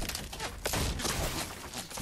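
Dense bursts of rapid gunfire in Fortnite crackle continuously, harsh and broadband, with no talking.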